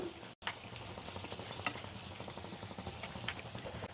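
Medu vada fry in hot oil, a faint, steady sizzle and bubbling running close by throughout the short stretch, broken only by a brief cut near the start.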